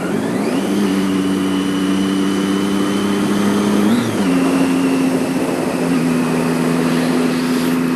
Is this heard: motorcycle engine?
yes